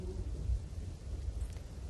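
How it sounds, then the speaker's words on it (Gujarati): Heavy monsoon rain arrives with wind in Chikhli, Gujarat: a low, rumbling roar of downpour and gusts, steady and muffled, with a brief faint higher tone near the end. "ચીખલીમાં ધોધમાર વરસાદ, પવન સાથે વરસાદનું આગમન"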